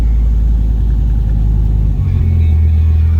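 1996 Dodge Viper RT/10 V10 on a cold start, a loud, deep close-up rumble that settles abruptly into a lower, steadier idle partway through.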